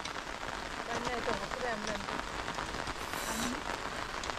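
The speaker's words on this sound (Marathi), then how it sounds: "मित्रांनो पाऊस यायला लागला हो" Rain pattering steadily across an open village field during sowing, a constant broadband wash with faint voices and brief chirps mixed underneath.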